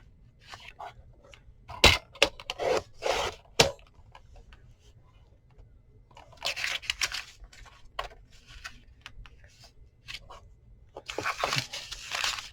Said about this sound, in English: I'm going to go ahead and cut a couple strips off of these